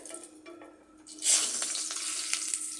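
Green chillies crackle and burst in hot oil along with whole cardamom and cinnamon, a sudden loud sizzle erupting after a quieter start and continuing with sharp pops over steady frying hiss.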